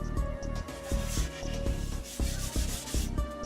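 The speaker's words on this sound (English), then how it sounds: "So what I'm going to do, I went ahead and sanded it down." Dyed wood being sanded down for a firefighter-themed table, a steady rubbing scrape with rhythmic strokes about every half second, close and continuous with no talk.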